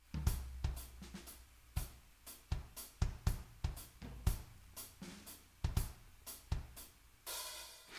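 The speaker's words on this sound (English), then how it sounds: "I start adding a little bit more bass drum notes to kind of fill out the texture," Drum groove on a kit with extra bass drum notes thickening the pattern, punchy close kicks and snare hits in a steady rhythm, ending on a ringing cymbal wash.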